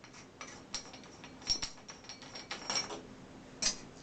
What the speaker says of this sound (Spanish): Ahora desatornillamos el chapetón.